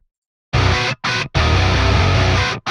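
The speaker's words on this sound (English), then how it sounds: "That's a very important mid-range boost." A distorted metal guitar with a mid-range EQ boost comes in after a moment of silence, hitting loud, close chugging bursts separated by brief abrupt cutoffs.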